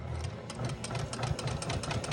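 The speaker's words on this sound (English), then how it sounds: "I'm just gonna back stitch a little bit" A sewing machine stitches sashing onto t-shirt quilt blocks, running in a quick even mechanical whir with rapid needle pulses throughout.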